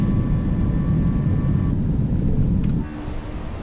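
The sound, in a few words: airliner taking off in Microsoft Flight Simulator 2024 video game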